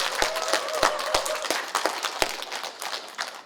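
A small audience at a 2020 volunteer ignite contest in Sejong gives sparse applause, with scattered individual claps rather than a dense ovation, fairly quiet and fading toward the end.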